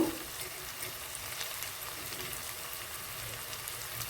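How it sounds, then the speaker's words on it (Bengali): Ginger sizzles in a hot pan for prawn malai curry, a steady, fairly quiet frying crackle that holds evenly throughout with no voices. "আদাটাকে ভালো করে ফ্রাই করে নেব যাতে কাঁচা গন্ধ না থাকে।"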